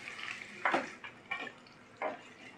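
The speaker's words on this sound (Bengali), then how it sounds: "প্রথমে আমি একটা তেল বসিয়েছি কড়াতে, তার মধ্যে আমি দেবো পেঁয়াজ" Onions, two large ones, go into hot oil in a wok for a spicy capsicum chicken, giving several short bursts of sizzle and splashing that flare up and die away over a quiet background.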